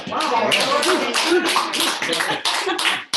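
A short burst of clapping right after a live seller phone call ends, a few people applauding close by in quick uneven bursts, with voices chatting over it.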